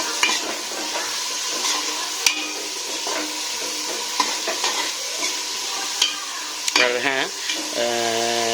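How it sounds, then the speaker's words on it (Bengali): Vegetables frying in a pan over raised heat give a steady, hissing sizzle with occasional sharp clicks of a spatula stirring, while a voice talks briefly over the cooking near the end. "তো ভেজিটেবিলগুলো দিয়ে দিয়েছি আঁচটাকে একটু বাড়িয়ে দিই এটাকে ভালো করে ভাজবো"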